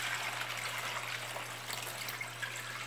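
Water poured into a basin for a homemade floor-cleaning disinfectant, a faint continuous splashing gush over a steady low electrical hum, with no talk.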